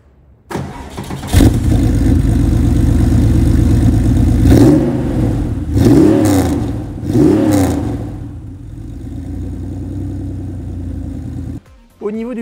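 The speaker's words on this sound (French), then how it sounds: "maintenant je vous invite à l'arrière pour vous faire écouter l'échappement" Exhaust of a Porsche 911 964 Carrera 2, heard at the rear: the engine starts, settles into a steady idle, then revs up three times in quick succession before idling again, loud and close.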